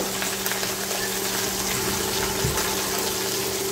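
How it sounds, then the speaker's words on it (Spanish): Water pours steadily into a pot of beef soup holding cassava, corn and cilantro, a continuous rushing splash heard up close with no talk over it. "Vamos ahora a cubrir con agua."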